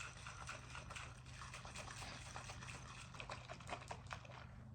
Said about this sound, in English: I put in some more hot water, milk, and a little bit of maple syrup to taste.